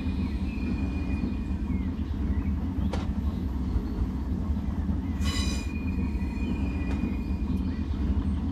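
A narrow-gauge steam train runs on rails in Train Simulator 2019 on the Corris line, a steady loud rumble of wheels with occasional clicks and a brief metallic squeal.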